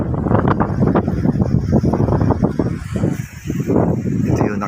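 Strong wind buffets the microphone in a park in Funabashi, Japan, producing loud, rumbling low gusts that rise and fall continuously, with no clear speech on top.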